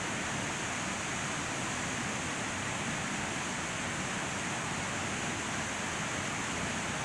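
A flooded creek rushes steadily in a dense, unbroken roar of water, constant and fairly distant throughout with no talk.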